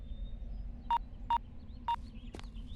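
Three short, evenly spaced telephone keypad tones sound as a phone number is dialed in a movie scene, clear against a quiet background.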